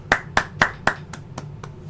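Several sharp claps, four strong then three softer, in a short ragged burst, close and without voices.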